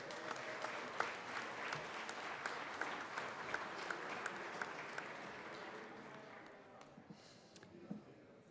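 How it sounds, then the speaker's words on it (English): Applause fills the Colorado Senate chamber during a legislative day, a steady round of many hands clapping close by that tapers off near the end, with a little background chatter underneath. "Let's give him another round of applause."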